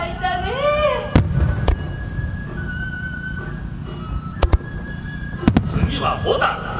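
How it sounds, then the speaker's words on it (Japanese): Chrysanthemum-shaped fireworks bursting at the Omagari fireworks festival in autumn, with several sharp booming explosions and crackling scattered across the sky over a steady crowd murmur and distant voices. "ああ、菊の花火だ。"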